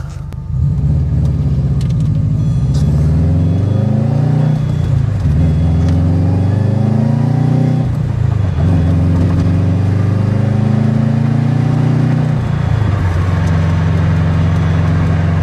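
A car engine rumbles loudly and close after its gas tank was derusted with Evaporust while still in the car, rising and falling through several light throttle revs over a continuous running note, with no talking.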